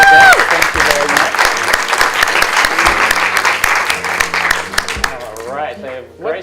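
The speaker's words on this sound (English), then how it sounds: "let's get a quick hand of applause for our guests" A seminar audience gives its guests a round of applause, crisp dense clapping at close range that holds steady and then thins out near the end as a voice begins speaking over the fading claps.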